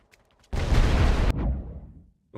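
A rifle volley fired by a line of WW1 infantry in the strategy game The Great War: Western Front. It lands as one loud, dense crack and rumble lasting under a second, followed by a decaying echoing boom.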